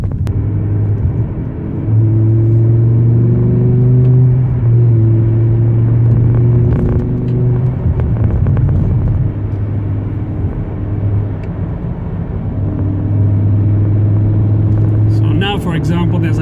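A BMW E60 sedan drives along a road at night, its engine droning steadily under continuous tyre and road rumble heard from inside the cabin, with the engine note rising and falling through the drive.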